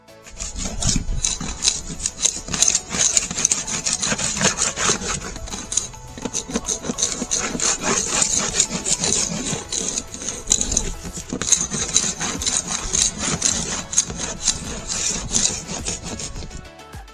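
Old wood being scraped by hand during a house renovation, just after the soffit and fascia were removed: steady, close, continuous rasping strokes with no talk.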